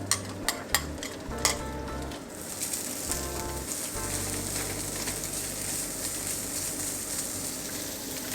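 Chopped chai poh, preserved radish, frying in a wok for Penang-style fried rice cake, opening with a few sharp clinks of a utensil before a steady, close hiss and crackle of oil takes over.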